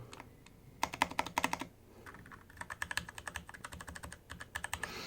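Keys clacking on a Varmilo VA88M mechanical keyboard in quick bursts of crisp strokes with short pauses, close and fairly quiet, no talking.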